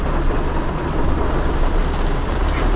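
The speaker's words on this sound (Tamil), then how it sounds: "மழை கொட்டுதுங்க, உங்களுக்கு இந்த கேமராவில் தெரியும்னு நினைக்கிறேன்." Heavy rain in the Red Dead Redemption 2 video game during a midnight drive, a dense, steady roar of downpour that fills the clip evenly with no voices.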